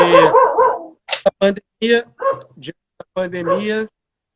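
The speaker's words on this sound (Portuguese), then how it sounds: "Desculpa pela cachorrada aqui" Several dogs bark and yip in sharp bursts, loud and close, overlapping with someone talking.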